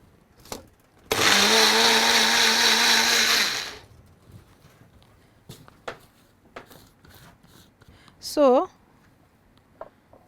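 A kitchen blender whirs loudly for about three seconds, churning a rose milk shake with rose milk and honey, then stops; scattered clicks and handling noises follow, with a brief rising chirp near the end.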